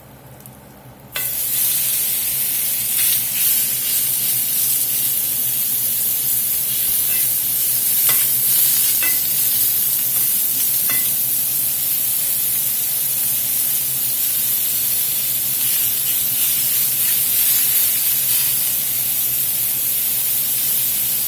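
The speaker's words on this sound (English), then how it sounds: "We got some butter on the flat top here." Steak frying in butter on a flat-top griddle, a loud steady hiss that starts abruptly after a second and runs on without a break, with occasional faint ticks and spatters, no voices.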